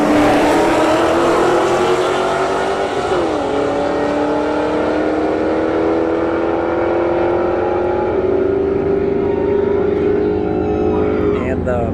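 A Roush Stage 3 Mustang and a Camaro SS drag racing at a street-heat event at Bradenton Motorsports Park give a loud, sustained engine roar that climbs in pitch through gear changes, rising steadily and staying close.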